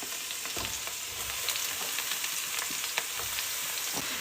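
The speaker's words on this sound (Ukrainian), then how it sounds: "І вже щоб шкварчали. О, шкварчать." Eggplant slices sizzle and crackle steadily in a hot frying pan, a dense continuous fry with scattered sharp pops throughout and no voices.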